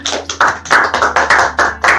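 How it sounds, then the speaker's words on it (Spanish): Hands clap in a steady, even rhythm, about eight loud, close, separate claps, during a Catholic lay-formation program at a call for applause. "Un aplauso"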